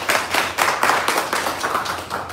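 A small acting-class audience claps in bursts, with several loud, uneven rounds of applause close by and no speech over it.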